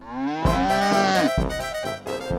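Cow mooing in a children's fairy-tale story: two long, loud, close moos, the first deep and drawn out, the second following right after, with no talking over them.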